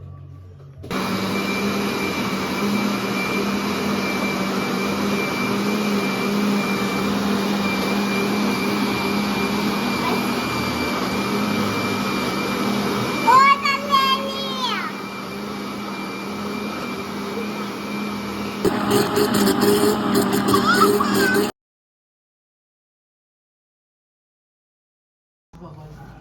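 An electric mixer beats a no-bake fridge pudding mixture, giving a loud, steady motor whine that runs about twenty seconds, briefly changes pitch partway through, then stops abruptly, with silence after.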